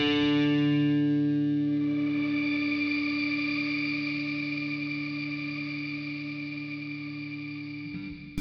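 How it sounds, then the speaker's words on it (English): An electric guitar run through overdrive with shimmer plate reverb on a NUX Atlantic delay and reverb pedal rings out as one sustained, distorted chord that slowly decays under a bright shimmering wash. "If I put on the overdrive and then I hold the reverb switch down, it gives me shimmer on plate."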